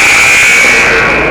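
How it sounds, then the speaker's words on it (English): A loud, steady electronic buzzer sounds in a gym during a high school basketball game between Madison Prep and DeSoto at the Duncanville Hoop Fest in Dallas, Texas, holding its tone unbroken for over a second. "There's the buzzer."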